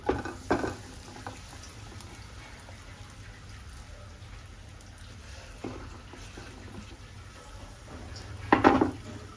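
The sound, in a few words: pizza pieces being sautéed in oil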